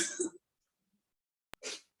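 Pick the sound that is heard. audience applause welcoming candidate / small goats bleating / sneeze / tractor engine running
sneeze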